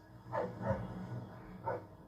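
Police sniffer dogs barking in three separate bursts, fairly close and moderately loud, with quiet background between barks.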